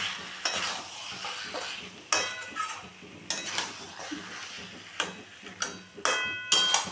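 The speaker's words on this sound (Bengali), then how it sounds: "চিকেনটা দিয়েও আমি ভালো করে মিশিয়ে নেব" Chicken is stirred into mung dal in a frying pan for a home chicken dish, with a spoon scraping the pan in repeated strokes and clinks over a steady low sizzle. There is no talking.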